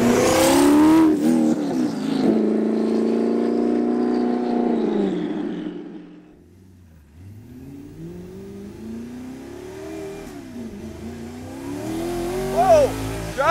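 Audi R8 widebody with a twin-turbo conversion accelerating hard, a loud sustained engine roar rising through the revs for several seconds, then dropping to a lower rumble before climbing again, with a brief sharp squeal near the end.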